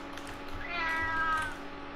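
A Minecraft cat lets out one clear, drawn-out meow in the middle of the moment, set over a low, constant game ambience with nobody speaking.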